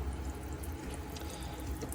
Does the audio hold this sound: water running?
yes